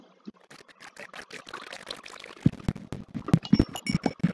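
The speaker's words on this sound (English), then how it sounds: "Oh my goodness, so much water everywhere." Water flows in the video game Minecraft during a survival mining session: quick, uneven splashy ticks and bubbly bursts that thicken toward the end, fairly close and moderately loud.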